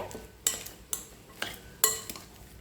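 A spoon mixing chicken masala filling for pani puri, four or five sharp metallic clinks against the bowl at a steady rhythm over soft scraping, with no talk.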